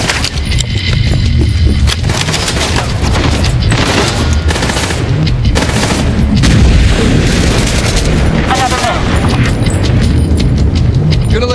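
Heavy combat in Division 2, with booming blasts such as a grenade explosion mixed into sustained automatic gunfire, loud and dense across the whole stretch.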